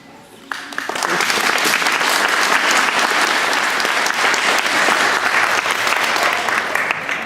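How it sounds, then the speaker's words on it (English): Audience at a youth council and wellness meeting breaks into loud, sustained applause after a brief quiet start, dense and even throughout with no speech over it. "Let's give another round of applause."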